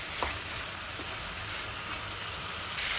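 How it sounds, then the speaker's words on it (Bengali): Rohu fish pieces fry in a pan, a continuous close hiss of sizzling oil with faint stirring taps and no talking. "দিয়ে দিলাম মাছগুলা কষা মতো। এগুলাকে নাড়াচাড়া করে মাছগুলাকে কিছুক্ষণ কষায় রান্না করে নেব।"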